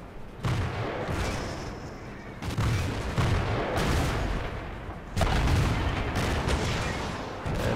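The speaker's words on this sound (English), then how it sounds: "Right, Panzer III, I take 2 really bad shots at him." Heavy tank cannon shots in World of Tanks from a Panzer III engagement: several booming blasts with sustained rumbling battle noise between them, loud and continuous across the stretch.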